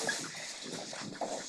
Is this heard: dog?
yes